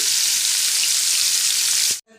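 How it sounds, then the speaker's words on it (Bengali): Pieces of fish fry in hot oil in a wok with a strong, continuous close-up sizzle that cuts off abruptly just before the end. "আমি মাছটা আস্তে আস্তে ছেড়ে ভেজে নিচ্ছি একবারে হবে না দুবারে ভাজছি"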